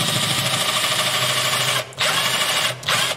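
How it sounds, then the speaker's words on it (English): A drill bores holes through the bridge area of a 1967 Martin D28 acoustic guitar, a steady close whine that runs continuously with two brief pauses as the bit is lifted. "I am going to go ahead and drill out these holes now."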